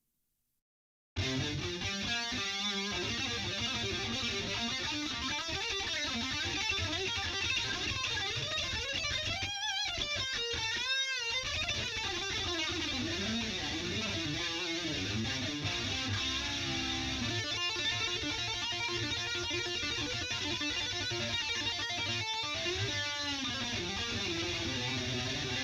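An electric guitar played through a Headrush pedalboard rig set for rock and metal, with one distortion pedal engaged, chugs and rings continuously with a thick, saturated tone for over twenty seconds, played alone after a brief silence.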